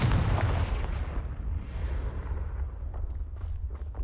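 A Confringo blasting curse explodes in the Hogwarts Legacy video game, a loud deep boom that rumbles and slowly fades over a few seconds, heard alone.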